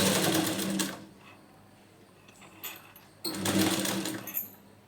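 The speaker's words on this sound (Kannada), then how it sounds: "ಅದನ್ನು ಹಾಕಿ ಸ್ಟಿಚ್ ಮಾಡಿದಾಗಿಂದ ನಾನು ಮೋಟ್ರು ಸೌಂಡ್ ಬರ್ತಾಯಿದೆ." A sewing machine motor runs in two short stitching bursts, a whirring drone with faint mechanical ticking between them. The new presser foot is fitted for altering a readymade chudidar dress.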